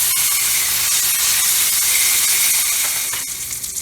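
Salmon fillet sears in a hot pan after being flipped, a steady broadband hiss and crackle of browning fish running close and loud throughout, easing slightly near the end, with no voices.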